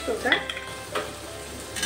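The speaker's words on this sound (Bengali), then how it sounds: "এবার এর মধ্যে দিয়ে দেবো আদা রসুন" Ginger, garlic and green chili paste fries with onions in a pan, giving a soft, close sizzle under scraping stirs; a voice speaks briefly at the start.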